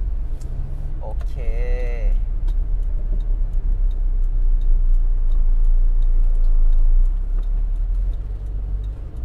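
An older Toyota Corolla 1.6 pulling out onto a main road, with a steady low engine and tyre rumble heard from inside the cabin, a short tonal chime near the start and faint ticking throughout.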